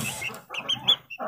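Young chicks in a farmyard give a quick run of soft, close peeps and small clucking chirps, several short calls packed into about a second.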